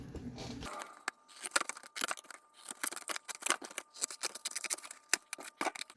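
Scissors snip through material to cut out pieces for firework tubes, a busy run of quick close crisp cuts with short pauses, quiet and with no talking.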